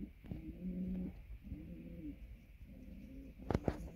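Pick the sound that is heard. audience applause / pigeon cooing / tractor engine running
pigeon cooing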